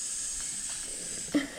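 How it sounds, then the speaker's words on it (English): Water poured onto a hot rock gives a soft, steady hiss close by, with a brief louder burst near the end. "You can hear it sizzling."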